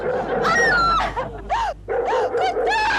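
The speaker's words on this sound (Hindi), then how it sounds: "कुत्ता।" A dog barks in short, sharp bursts with yelping, whine-like tones, close and loud, on the set of a Hindi sitcom.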